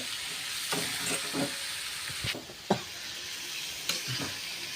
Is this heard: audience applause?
no